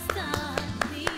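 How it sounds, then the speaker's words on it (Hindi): Clapping welcomes a guest on a Pakistani morning television show, a handful of slow, distinct claps spaced about a quarter second apart over a sustained tonal background. "सो भरपूर तालियों में हम दावत देंगे हमारी आज की बड़ी प्यारी जनाब मेहमान फिजा अल"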